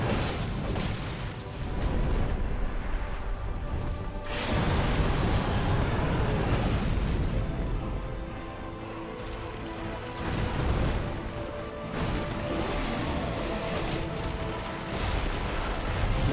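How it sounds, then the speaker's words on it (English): A dragon boss in Shulva, Sanctum City in Dark Souls II breathes fire in long, loud, roaring bursts that swell and fade repeatedly over a constant rumbling game backdrop. "That's a fire breath."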